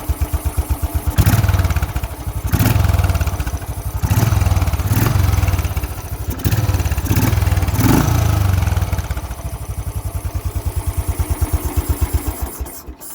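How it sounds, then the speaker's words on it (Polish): A Royal Enfield Bullet 500 long-stroke single-cylinder motorcycle engine idles up close with a slow, heavy thumping beat, broken by a few short revs before settling back. "To jest długoskokowy silnik jednocylindrowy"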